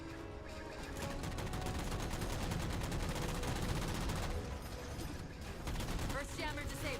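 Rapid gunfire from the Halo 4 video game as jammers are shot down, a dense, continuous barrage of loud shots with mechanical clatter that stays intense throughout and surges again near the end.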